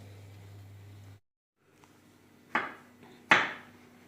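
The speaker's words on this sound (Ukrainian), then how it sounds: "Нарізаю на салатик огірочок." Two sharp knife strikes on a cutting board while slicing cucumber ring out close by after a quiet pause, with a faint low hum at the start.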